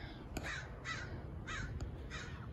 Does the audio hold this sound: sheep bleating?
no